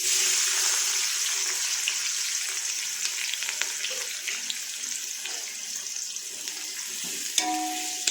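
Onions sizzle in hot oil for chicken biryani, a steady bright hiss of frying that runs throughout, with a few soft clinks of a utensil near the end.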